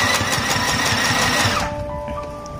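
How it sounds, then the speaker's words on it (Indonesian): Inexpensive sewing machine stitching fabric onto curtain smoke rings, a fast steady mechanical whirring close up that runs for over a second and then stops, leaving quiet hum. "Saya memakai mesin jahit yang murah meriah ini, tapi hasilnya juga kencang ya."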